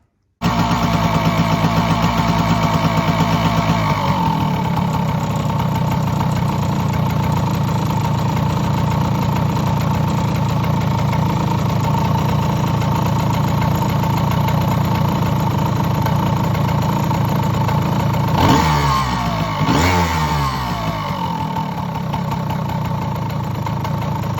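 A Honda CT110 postie motorcycle that won't run properly idles loudly and close, dropping in pitch after a few seconds, then gives two quick throttle blips near the end.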